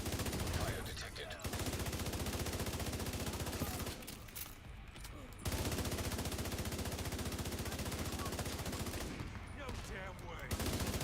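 Sustained rapid automatic gunfire in the PC shooter Division 2, loud and continuous in long bursts with two brief pauses between them.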